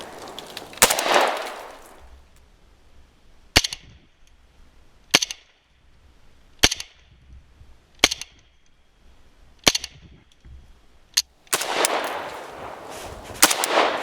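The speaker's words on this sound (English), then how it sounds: "Got a fourth shooter rocking away with the AK-74" An AK-74 rifle fitted with a Viking Tactics flashlight mount fires sharp single shots at a range, about six spaced cracks, with louder bursts of fire near the start and end.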